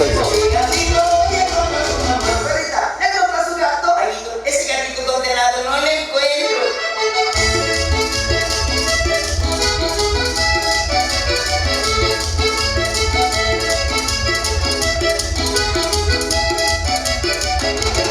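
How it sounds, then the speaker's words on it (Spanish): Cumbia music plays at a wedding in Ameyaltepec, a steady danceable beat with bass and vocals running continuously and loudly, after a brief quieter break near the start. "vamos a continuar con más música cumbia"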